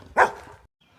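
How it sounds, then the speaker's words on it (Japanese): A dog barks loudly at a walker on a Camino road in Spain, one sharp close bark followed by a fading tail and near-silence. "何もしてないのに犬にめちゃめちゃ吠えられる。"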